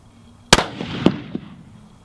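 A single sharp, loud rifle shot from a Savage 10FP in .308 Winchester at an outdoor range, close by, followed by fainter echoes and small thumps as the sound decays.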